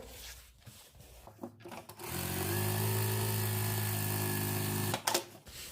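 Sewing machine stitching fabric for a bell skirt, a steady mechanical whir running for about three seconds after soft handling noises, then stopping with a brief clatter.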